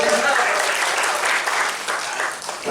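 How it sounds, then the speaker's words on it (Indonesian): Audience applause at an Indonesian community gathering, a steady, full-sounding round of many people clapping, loud and continuous throughout, with some voices mixed in. "Jadi tepuk tangan untuk Bapak kita yang satu ini."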